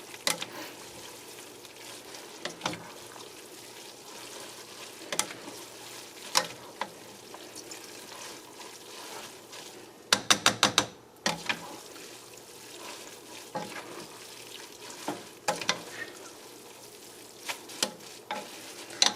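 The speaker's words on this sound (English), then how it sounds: "we're just gonna keep mixing this until the noodles is cooked" Pancit bihon rice noodles with smoked sausage being stirred in a hot pan, a steady close sizzle broken by repeated scraping and tossing strokes, with a brief flurry of sharper clatters midway.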